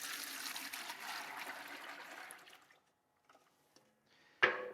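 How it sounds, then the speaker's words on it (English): Shadow black paint pours in a thick, steady stream into a bucket, a close liquid rush that tapers to faint drips and trickles, then a sharp knock at the end, with no voices. "So I've got 2 gallons of shadow black. I'm going to pour them into the bucket"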